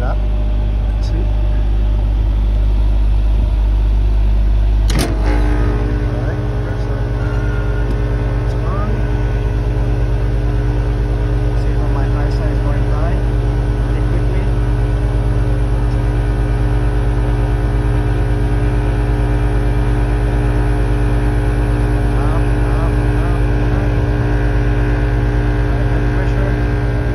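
Outdoor air conditioning compressor with an outdoor TXV restriction running steadily, a loud continuous hum with a strong electrical drone throughout, close by, with a brief clunk early on.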